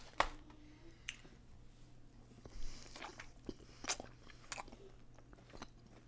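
Close, quiet bites and chewing of a Steak n Shake butter garlic steak burger with cheese and a soft bun, with a few sharp crunchy bites and moist smacking spread across the moment, without talk.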